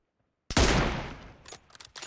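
Burst of gunfire in the mobile battle royale game PUBG Mobile: a loud close volley that decays, followed by several sharper shots near the end.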